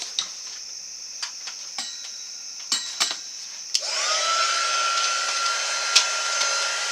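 A craft heat tool starts up and runs steadily with a whirring blow, heat-setting freshly applied ink, after a few light taps and clicks; it sounds close and fairly loud and continues to the end.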